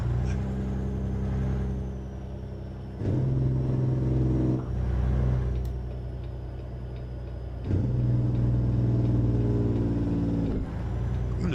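Detroit Series 60 diesel engine in a brown truck in American Truck Simulator, a steady low rumble that swells louder twice as the throttle opens, with a faint ticking over it.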